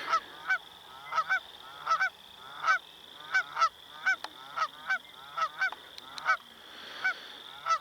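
Repeated Canada goose honks ring out in a steady series, fairly close and loud, with several birds calling over one another against faint background noise at sunset near a forest fire.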